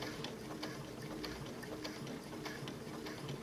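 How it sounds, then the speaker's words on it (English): Baby Lock Chorus & Crescendo sewing machine stitching steadily, a soft, continuous mechanical whir with rapid faint ticking, quiet and close, with no voices. "And this time when I'm going to stitch, I'm just using the edge of my foot as my guide."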